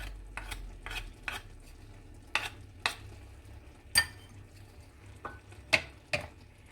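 Mushrooms, peppers and garlic in butter cook down in a pan, with a quiet background sizzle broken by sharp, irregular clinks and scrapes of a utensil stirring against the pan, and no one talking.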